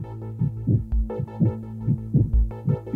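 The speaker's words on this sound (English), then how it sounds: "It's the sound of a heartbeat." A steady heartbeat sound effect, deep paired thumps repeating in an even rhythm over a low hum, loud and close with no voices.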